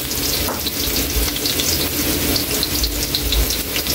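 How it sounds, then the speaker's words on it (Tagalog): Garlic fries in hot oil with a loud, constant sizzle and scattered crackling pops, close by and without any talking. "Kaili, mainit na yung mantika. Maglagay na tayo dito ng bawang."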